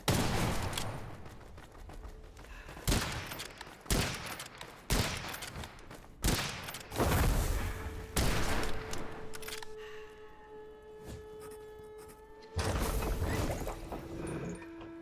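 Repeated gunfire from the video game Witchfire comes in punchy bursts, some rapid and some single. Mechanical reload clicks fall between the shots, and a sustained tone from the game rises near the end.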